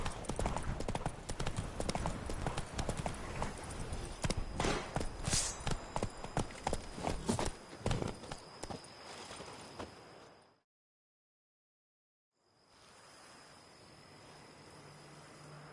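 Hooves of Roach, a horse in The Witcher video game, clip-clop in a brisk, steady rhythm that fades out, followed by a short silence and then a quiet ambient backdrop.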